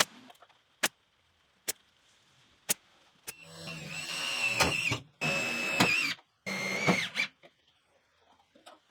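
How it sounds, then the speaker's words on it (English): A power drill drives screws through a board into a metal carport beam in several close, loud whirring bursts, each cutting off abruptly, preceded by a few sharp isolated clicks or taps. "I'm nailing the edges and then fixing the board with screws into the metal beam afterwards."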